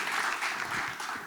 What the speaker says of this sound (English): Let's give a round of applause to Kimberly Richards.